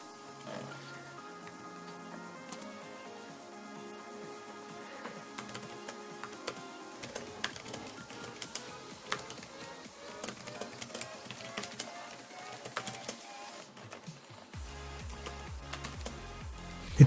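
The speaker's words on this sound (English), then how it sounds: "here is a sample of how the key will sound when you're typing." Typing on an iClever backlit portable Bluetooth keyboard, a steady run of soft, quick key clicks with occasional louder taps over a faint background hum, no voices.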